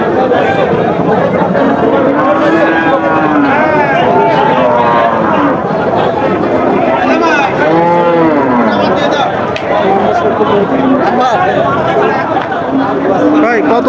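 Friesian and crossbred cattle at a busy Bangladeshi cattle market lowing repeatedly, several drawn-out moos rising over a constant hubbub of crowd chatter and nearby voices.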